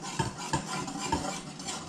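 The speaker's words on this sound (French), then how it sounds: "Je mélange bien tous mes ingrédients secs." A utensil stirs dry muffin ingredients, including salt, in a bowl, with a few soft clinks against the bowl over a steady scraping swirl, close and heard alone.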